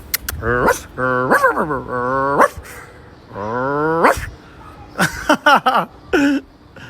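A small female dog barks and yips in a run of sharp, close bursts with pauses between, alongside people talking.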